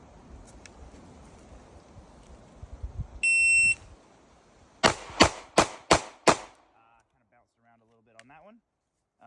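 A Sig P365 pistol fires five sharp, loud shots in quick succession outdoors, preceded by an electronic timer beep, with faint talk around the shooting.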